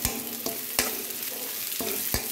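Onions and green chillies frying in a pan give a constant close sizzle, punctuated by a few sharp spatula scrapes or knocks at irregular intervals, with no voices.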